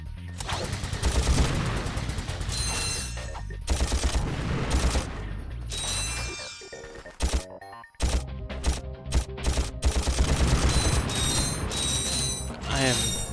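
Rapid weapon fire from Ratchet & Clank, with mechanical ratcheting clicks and gunshot bursts in fast repeated volleys, loud and close, broken by brief pauses and stuttering pops.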